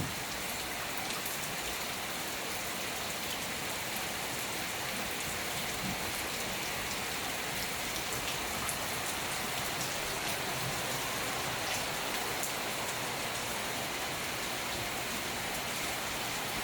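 Heavy rain pours down steadily during a flood, a dense, continuous hiss of water hitting surfaces close by with no pauses and no voices.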